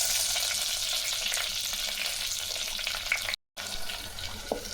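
Dried red chilies and green chilies sizzle and crackle steadily in hot oil in a pan, a continuous close frying hiss with faint clinks of stirring and no talk.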